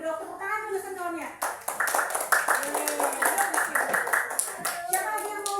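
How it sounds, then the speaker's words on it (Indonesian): Children in a classroom clap their hands in a rapid, rhythmic burst that goes on for a few seconds, while a teacher's voice and kids' voices talk over it. "Tepuk tangan dulu sentuhannya."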